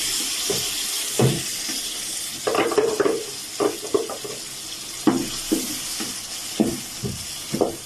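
Tomatoes fry in a pan for a potato and meat tray bake, giving a soft sizzle under intermittent stirring scrapes and clatter, with some running-water hiss behind, close and with nobody speaking.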